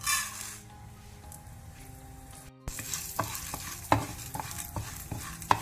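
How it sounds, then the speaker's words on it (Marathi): Urad dal fries in hot coconut oil in a pan for a Mangalorean chutney, a soft, steady sizzle broken by close stirring scrapes and clicks. "आतां हें तेल उन जालें म्हणटना आमी उडदा दाळ ताका घालया"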